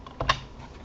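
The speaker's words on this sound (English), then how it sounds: "then you type in bash run.sh" A couple of quick, close keystrokes on a computer keyboard as a command is typed into a terminal while setting up a Minecraft server. The sound is brief and crisp, with no voices.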